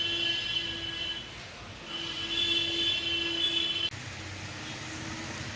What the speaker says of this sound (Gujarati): જંગલની રાણી એવી આ મીટર ગેજ ટ્રેન